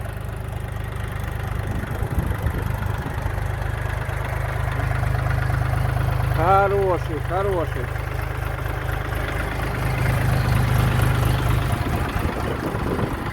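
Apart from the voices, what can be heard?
three-cylinder four-stroke minitractor engine, slow driving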